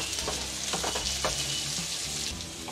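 Onions sauté in hot oil with a tablespoon of cumin for a tomato-onion sabzi, a steady loud sizzle broken by several stirring scrapes and clinks of a spoon against the pan.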